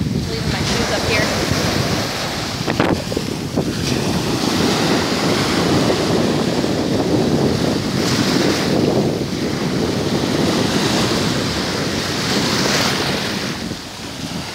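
Ocean waves roll and wash in steadily near a cement boat launch on a beach in Pattaya in the evening, with heavy wind rumble buffeting the microphone throughout.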